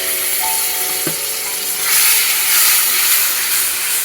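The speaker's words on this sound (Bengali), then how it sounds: "একটু জল দিয়ে দেবো।" Water poured onto spices and turmeric frying in a pan for a pabda fish curry sets off a loud, continuous steamy sizzle and hiss that swells slightly midway.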